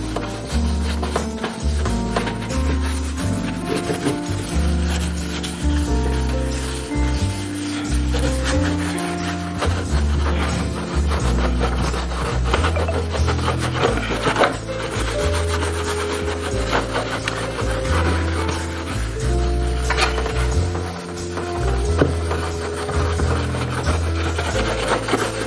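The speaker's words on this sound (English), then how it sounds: "so again wet it in the magic fluid and start scrubbing to get your wood cleaned." A wooden kitchen chimney panel, dirty for over a year, is scrubbed with cleaning fluid: a continuous, loud, close rasping rub of bristles on wet wood, back-and-forth strokes running without pause throughout.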